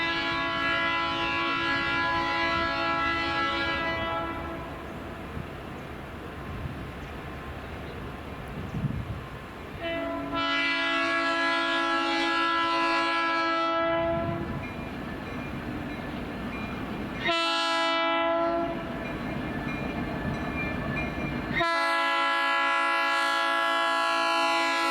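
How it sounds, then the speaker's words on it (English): U.S. Sugar steam locomotive 148 pulls a Santa train from Belle Glade, Florida, sounding several long, loud, chord-like whistle blasts separated by short pauses over a low rumble of rolling cars. "the train arrived just before 8 a.m."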